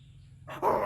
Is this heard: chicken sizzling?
no